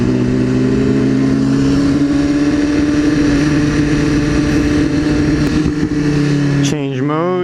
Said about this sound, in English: And we got a Lambo.